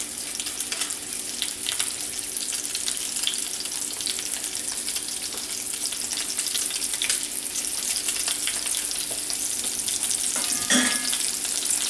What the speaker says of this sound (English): So as they're searing, just try and get them as even as possible in there.